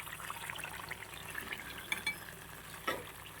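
A spoon scrapes and stirs bitter gourd curry simmering in oil in a pan, soft sizzling underneath with a few sharper clinks of utensil against metal near the end.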